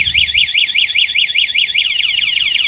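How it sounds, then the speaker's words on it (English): An ATV's anti-theft alarm sounds loud and close, a rapid warbling electronic siren that sweeps up and down steadily with no talking. "It has an alarm system on it."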